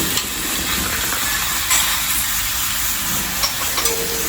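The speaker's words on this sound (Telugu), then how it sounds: "చక్కగా బటర్లో రోస్ట్ అయ్యాక పీస్ వైజ్గా ఇంకా ఫ్రై అయిపోతుంది" Chicken pieces frying in butter for butter chicken: a steady, close sizzle and hiss that carries on without pause, with a few faint clicks on top and no talking.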